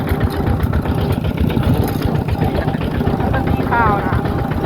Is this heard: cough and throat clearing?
no